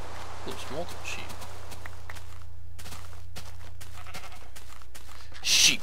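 Sheep bleating in the video game Minecraft, a few short game bleats among light footstep taps, ending in a brief louder burst, with a low steady hum underneath.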